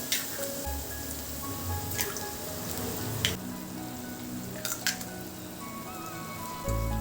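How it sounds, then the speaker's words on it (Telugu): Three eggs cracked into a hot pan for an Andhra egg karam dish begin to sizzle, a steady frying hiss with a few crisp cracks and taps rising above it, and no talk. "ఇక్కడ మూడు గుడ్లు పొడిచిపోసుకోవాలి ఈ విధంగా"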